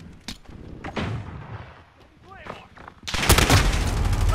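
Gunfire in a video game shooter match: scattered shots under voices, then a loud sustained burst of rapid automatic fire over the last second or so.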